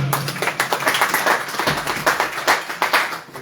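Audience applause welcoming a speaker at a Faiz Ahmed Faiz birthday poetry and music gathering, fairly close, uneven clapping from a modest crowd with distinct individual claps that thins out toward the end.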